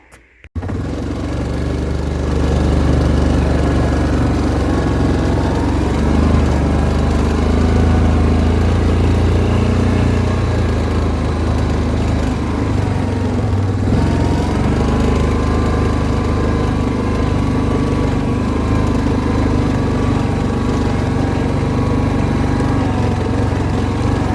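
A four-wheeler ATV engine runs close by on a rural property, a steady loud drone that holds without pause after a brief start, with no talking.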